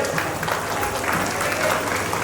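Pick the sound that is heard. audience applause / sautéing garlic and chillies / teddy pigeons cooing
audience applause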